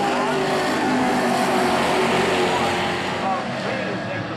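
Race cars roar around an oval track in a continuous loud engine drone, with a commentator talking over the racing.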